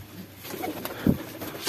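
Pigeons in a fancier's loft, including a teddy hen, give a soft low coo near the middle, with faint rustling and other bird sounds around it and no talk.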